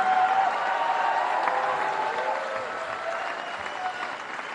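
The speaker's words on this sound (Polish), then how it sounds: "możecie krzyczeć dowoli, klaskać dowoli." Audience applause at a concert, a dense, steady wash of clapping that fills the whole span and tapers off slightly toward the end, with a faint voice or cheer woven in.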